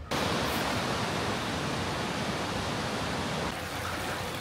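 Rushing water channeled through a tunnel toward a power house near Pokhara, a dense continuous roar, loud and close, steady with a slight drop near the end.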